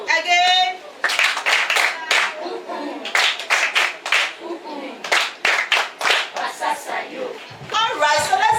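Children at a school reading marathon clap out a call-and-response rhythm in grouped bursts, mixed with chanting voices and sung calls between the clap patterns.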